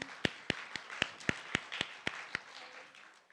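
Thin applause from a small audience after a Zanzibar community dance performance, with a few sharp, evenly spaced claps standing out above a soft patter of clapping.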